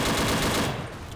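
A sawn-off shotgun fires in the Dino D-Day shooter, a single loud, close blast with a short rumbling tail that fades within about a second.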